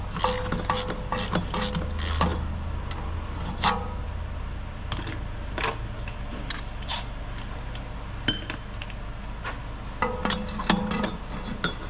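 A ratchet wrench with a swivel and extension loosens a starter bolt on a 2004 Jeep Liberty 3.7L, giving bursts of rapid clicking pawl ticks mixed with metallic clinks, close up and irregular across the clip.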